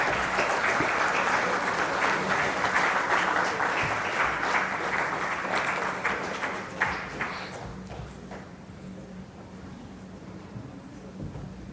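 A crowd at a management institute event curtain raiser breaks into sustained applause to welcome a government minister, dense and loud at first, then thinning and fading toward the end.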